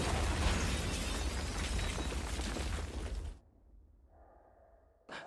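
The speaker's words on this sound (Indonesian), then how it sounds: "mereka ditembak tank yang membuat mereka terpental" A tank shell blast from the war film Behind Enemy Lines hits as a loud, sustained roar of debris that cuts off abruptly into a quiet, hollow ringing tone, then ends with a short sharp burst.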